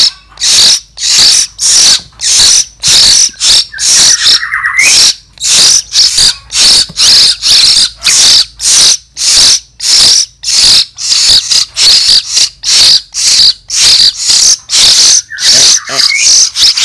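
A young hill myna chick calls while being fed, giving rapid, loud, rhythmic harsh begging squawks in a steady repeated pulse, close up, with a couple of brief higher whistle-like notes.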